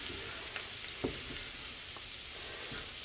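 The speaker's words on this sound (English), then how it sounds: "You want to cook your roux." A roux of flour and fat cooking in a cast iron skillet for country gravy gives a faint, even sizzle with a couple of soft spoon taps, no talking.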